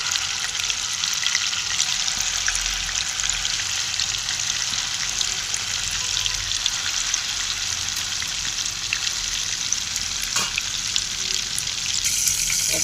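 Kofta balls sizzle in hot oil, a steady loud crackling hiss that runs on without a break, with a faint clink near the end.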